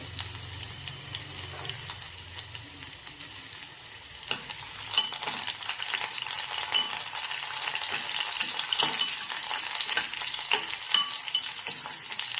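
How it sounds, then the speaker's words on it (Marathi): Dried red chillies and garlic frying in a pan, a constant close hiss of sizzling oil with scattered crackles and occasional stirring scrapes, growing slightly louder as it goes, with no talking. "आता ही मी मिरची घालते आणि हा लसूण घालते. हे दोन्ही आपण चांगलं परतून घेऊया."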